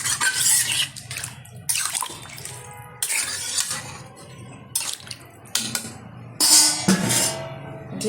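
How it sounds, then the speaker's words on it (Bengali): Water poured into a pot of cooking mutton: splashing and pouring bursts that come and go in several separate pours, with faint clinks of metal utensils between them, close and moderately loud. "দিয়ে দেবো এখন পরিমাণ মতো জল।"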